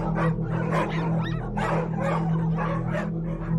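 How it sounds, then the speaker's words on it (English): Stray dogs bark in a horror story scene, several close, loud yips and barks in rapid succession over a steady low hum, with a whimpering note among them. "might be visited by stray dogs"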